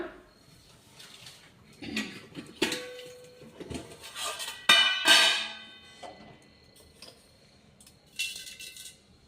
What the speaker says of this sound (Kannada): ಒಂದು ಸ್ವಲ್ಪ ಸ್ಪೂನ್ ಎಣ್ಣೆ ಹಾಕೋಣ. ಸಾಸಿವೆ ಹಾಕೋಣ.